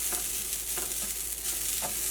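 Steady frying sizzle of grated coconut roasting in a hot pan with occasional scraping stirs, close and continuous, no voices.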